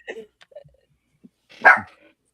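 A dog named Summer gives a single loud bark after a few faint yips and small noises, close by and otherwise alone.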